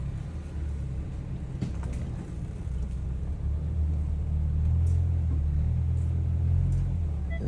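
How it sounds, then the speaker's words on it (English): A Mercedes E300 engine labors up a steep driveway, giving a close, steady low rumble that grows heavier and louder partway through as the car strains uphill. "This car is struggling to get up here."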